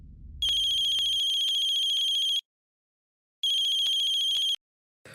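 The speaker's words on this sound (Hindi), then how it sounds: "ठाकुर साहब फोन करो पाकी को, जल्दी फोन करो।" A telephone rings in a Hindi comedy drama scene: two loud, bright electronic ringtone bursts separated by a short silence, following a brief low rumble at the start.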